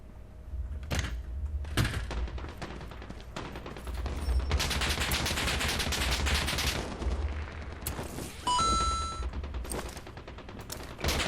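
Gunfire in the video game Lost Light crackles in bursts and scattered single shots, dense volleys mixed with sharper cracks and some metallic clicks, fairly loud and continuous.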